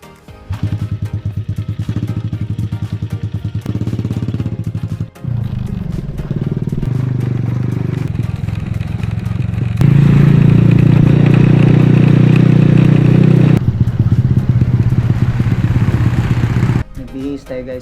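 A motorcycle engine runs steadily and close for the whole stretch, a loud continuous drone that grows fuller and rises for a while before dropping back, with voices speaking over it.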